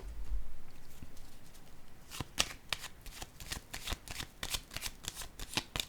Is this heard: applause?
no